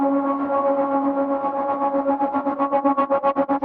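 Dark sustained synth drone note run through amp, auto-pan and tremolo effects, starting as a smooth held tone and increasingly pulsing in fast rhythmic swells toward the end, loud and alone.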